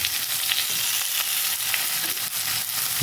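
Ridge gourd fries in a pan with salt and turmeric for a dal. A dense, even sizzle of hot oil runs throughout, with light stirring scrapes and no talking.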